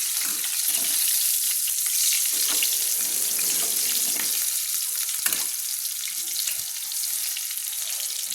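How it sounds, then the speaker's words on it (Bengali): Eggplant slices sizzle and spit steadily in hot oil in a pan while being fried for a prawn and eggplant dish, a close, continuous crackle with occasional stirring noises and no talking. "লাল করে ভেজে নিচ্ছি।"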